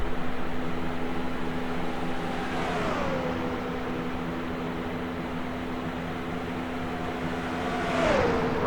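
Race cars from a PASS Series season finale at Homestead on the final lap, a steady loud engine roar with a car passing near at the start and another sweeping close by near the end.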